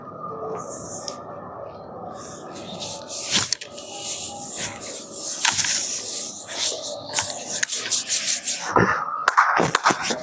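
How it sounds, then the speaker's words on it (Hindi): Palms rub together briskly during a yoga session, giving scratchy, hissing friction bursts of varying loudness that grow more intense over the seconds, close and clear. "हथेलियों की मालिश करो"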